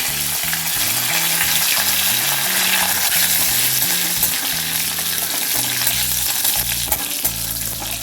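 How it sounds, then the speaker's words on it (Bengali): Curry leaves and mustard seeds dropped into hot oil: a loud, continuous crackling sizzle with steady spitting and popping, close and dense, heard alone with no talk. "এবার আমি কারি পাতাটা গরম হওয়া দিয়ে দিলাম আর দেব এই যে সর্ষে"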